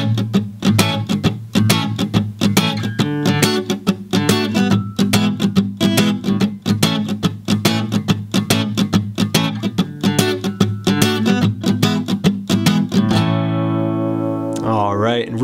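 Acoustic guitar strummed in a steady, choppy reggae rhythm, with sharp muted percussive chunks on each beat, close and loud, ending on a ringing chord.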